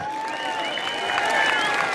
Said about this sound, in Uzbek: Mana shu palvonga bitta qarsak bo'lsin